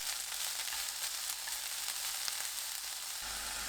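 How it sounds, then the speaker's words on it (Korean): Bean sprouts sizzle on a preheated pan brushed with cooking oil, the burner just switched off; a steady, bright frying hiss runs throughout, with a slight drop in intensity near the end and no talk. "팬이 예열되면 불 끄고 콩나물을 골고루 펼쳐 올리세요."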